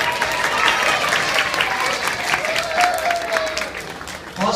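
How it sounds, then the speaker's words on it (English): A school audience applauds as a team of children takes a bow after a mime performance, a sustained burst of clapping close and loud, with a voice speaking over it and the applause fading at the end. "when they take a bow, the crowd goes wild"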